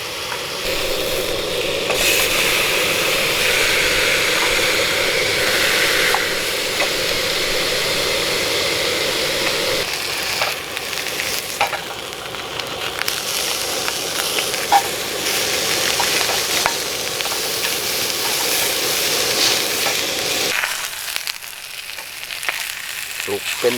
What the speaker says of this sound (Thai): เดี๋ยวย่างหมูย่างก่อนเนาะ